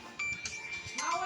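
A mobile phone ringtone plays a short tonal melody indoors at home, fairly faint, while people talk over it.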